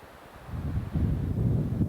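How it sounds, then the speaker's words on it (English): Wind gusts during a heavy snowstorm on a street in Ilion, New York, a low buffeting rush against the microphone that swells louder after the first second and holds steady. "now the wind picked up, and it's really coming down"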